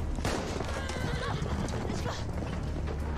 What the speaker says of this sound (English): She's really hoofing it on the horse